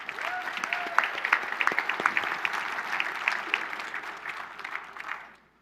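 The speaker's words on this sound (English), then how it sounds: "Let's give ourselves a round of applause." Audience applause at a general session awards celebration, scattered claps building into a steady round that fades out at the end, moderately distant.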